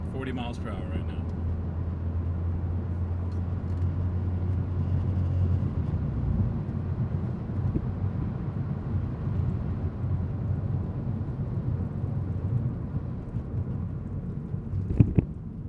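Inside a Mazda NC Miata at about 40 mph, top up: continuous low road and engine drone filling the cabin, a steady hum giving way to broader rumble, with a faint click near the end.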